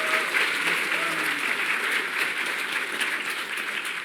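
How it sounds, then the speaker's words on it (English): A convention crowd at a PAX Prime 2015 panel gives sustained applause: loud, dense clapping filling the room, with faint voices mixed in beneath it. "Hand of applause for Natsume-san if you like the art here"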